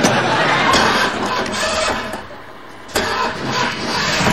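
A car engine cranks and starts in a garage, a loud churning roar that briefly dips then catches again; the engine is said to have its timing off.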